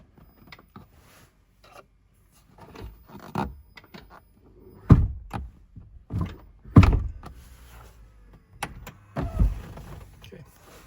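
A Tesla Model X door is pulled shut during a door lock actuator repair, giving a series of mechanical clunks and whirring motor sounds with a few louder thuds, close and in a quiet space.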